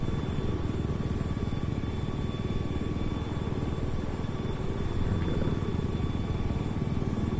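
Helicopter hovering in Battlefield 4, a steady, loud rotor thrum with dense low-end chop and a thin whine held evenly throughout, no voices.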